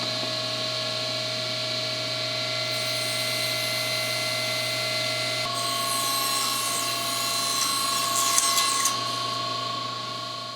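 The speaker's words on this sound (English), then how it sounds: "So I'm going to run them into the saw by about 1/2 inch, and that'll remove just enough of the tongue." A saw runs continuously with a steady motor whine while trimming the wooden tongues from panels, the pitch shifting slightly as cuts bite midway and a brief rattling burst near the end.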